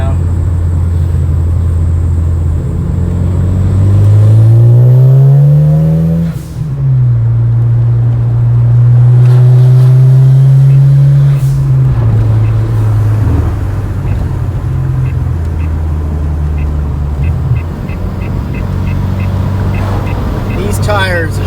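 A motorcycle engine on Kenda KR20A tires revs and pulls in second gear, its loud droning tone rising and falling through the run while a rider talks over it.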